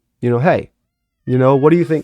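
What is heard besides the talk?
cat meowing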